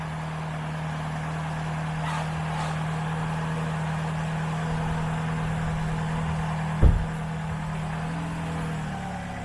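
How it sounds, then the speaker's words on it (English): A car's engine idles steadily at an auction lot, a close, even low hum that holds through, with one short thump partway along. "motor itself sounds good"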